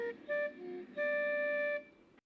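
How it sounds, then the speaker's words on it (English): A car horn from a film sounds outside in a few steady, harmonically rich honks: a short blast, then a longer one and a sustained final blare, moderately loud and alone. "She hears a car horn outside that sounds like this."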